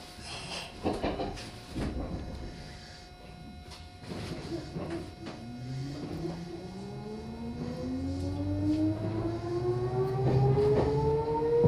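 Meitetsu Bisai Line train running from Fuchitaka toward Tsushima, heard from inside the car: the motor whine climbs steadily in pitch as it accelerates, over a rumbling, clattering ride that grows louder toward the end.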